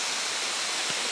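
Water pours down steadily at the water slides of the Grand Palladium Lady Hamilton Resort in Jamaica, a continuous broadband rushing that stays loud and even throughout.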